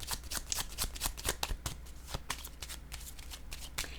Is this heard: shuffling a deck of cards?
yes